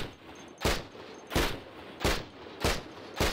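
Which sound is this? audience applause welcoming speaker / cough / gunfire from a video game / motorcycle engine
gunfire from a video game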